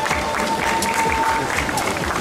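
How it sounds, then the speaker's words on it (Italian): Crowd at a Miss Vesuvio beauty pageant stage event in Battipaglia applauds, a dense, loud, continuous wash of clapping with a voice faintly audible beneath. "Facciamo un applauso fortissimo!"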